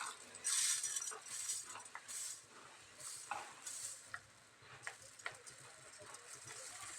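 Puffed rice bhadang being stirred together in a pan with turmeric, khari boondi and corn chivda, giving soft scraping rustles, light clinks of spoon against metal and a faint sizzle throughout, close and fairly quiet.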